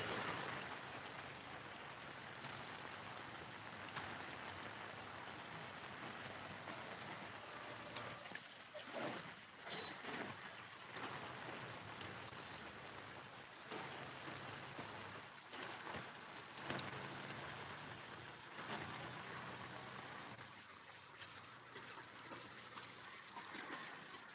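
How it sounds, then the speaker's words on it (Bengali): Steady wash of heavy rain in Hemayetpur with scattered splashy bursts, fairly distant and even throughout, no one speaking. "প্রচন্ড বৃষ্টি হচ্ছে ভাই প্রচন্ড বৃষ্টি হচ্ছে"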